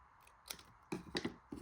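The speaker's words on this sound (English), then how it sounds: "So I'll just cut that like that." Scissors snip through a paper gift tag in several quick, close cuts, with crisp blade clicks coming in an uneven rhythm against a quiet background.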